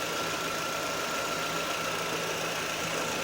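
A Citroen C4's 2-litre 16-valve, 151-horsepower petrol engine idles steadily close by, a constant broadband hum with a faint tonal whine running unbroken throughout.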